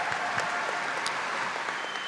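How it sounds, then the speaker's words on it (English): Crowd at a swimming venue applauding after a para men's 50m freestyle final, a steady, dense burst of clapping that carries evenly through the short clip without talk. "Can we get a round of applause for that"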